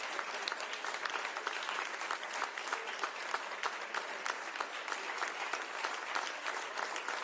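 An audience claps at the close of the Pence–Harris vice presidential debate: continuous, evenly dense applause from many hands, heard from a distance and fairly quiet, holding steady for the full stretch without rising or fading.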